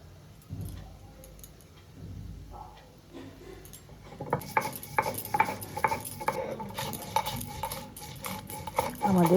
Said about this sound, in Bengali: এবার আমরা পোস্ত আর কাঁচা লঙ্কাটাকেও বেটে নিচ্ছি।